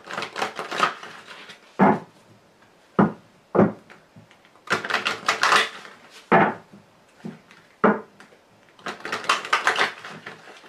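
A deck of Lenormand cards is shuffled and cut, giving bursts of crisp riffling and papery slaps in an uneven rhythm, close by with no talking.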